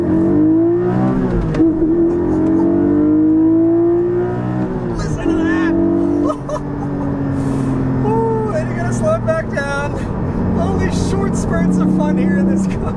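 A 2020 Porsche 718 Cayman GT4 engine pulls hard through the gears, revs climbing in rising sweeps with brief dips at each shift, loud and heard from inside the car.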